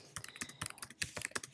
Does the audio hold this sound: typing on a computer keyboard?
yes